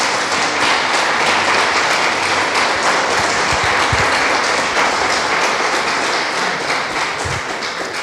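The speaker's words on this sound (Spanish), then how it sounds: "Dele ese aplauso al Señor." A church congregation applauds steadily for the full stretch, a dense, loud wash of clapping with a few brief low thumps and no speech over it.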